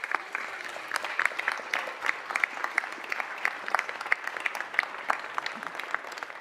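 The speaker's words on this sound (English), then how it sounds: "Let's give them all a round of applause." Audience applause at a city council meeting honoring a group of students, sustained scattered clapping from a modest crowd in a hall, moderately quiet and steady throughout.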